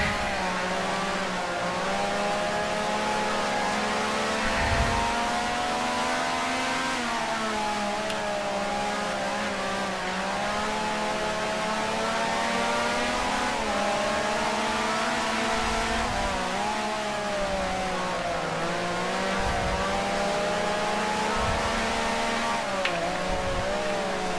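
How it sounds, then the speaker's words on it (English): A 1960s-style Grand Prix race car engine in the Grand Prix Legends racing game, screaming at high revs with continuous rising and falling pitch through gear changes, loud and steady throughout with no talk. "It's not good revving it too high."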